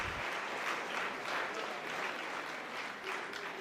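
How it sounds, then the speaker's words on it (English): Audience applause at an ICSI national conference gathering of company secretaries, a dense steady clapping from a large crowd that fills the whole stretch without pause. "So give huge round of applause to our presidents."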